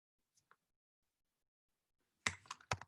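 A few quick keystrokes on a computer keyboard, close and crisp, come in a short burst near the end after a couple of faint isolated taps and near silence.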